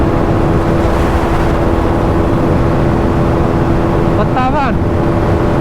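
Two motorcycles, a 2025 Hero Xtreme 250R and a KTM Duke 250, ride during a performance test, a steady loud engine drone with heavy wind rush throughout, briefly joined near the end by a rising, wavering higher-pitched whine.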